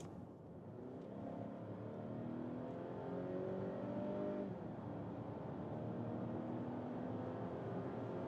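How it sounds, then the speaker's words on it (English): A Volvo XC90 B5 mild hybrid engine accelerates steadily from 50 to 110, its hum rising in pitch over several seconds inside the cabin, smooth and moderate in loudness. "acceleration, we go from 50 to 110, here with the B5 mild hybrid engine"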